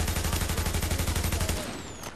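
Rapid automatic bursts from an AUG rifle in The Division's Dark Zone, evenly spaced shots hammering out in a fast steady rhythm, loud and close, then cutting off abruptly into a short fading tail.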